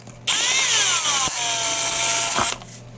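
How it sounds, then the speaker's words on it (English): An electric drill bores a hole through foam, its close, steady motor whine running for about two seconds with a slight dip in pitch before stopping. "maybe I'll just drill it in"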